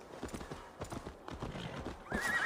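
A horse in Assassin's Creed Valhalla clip-clops with steady hoofbeats and gives a whinny near the end, moderately loud in a game soundscape.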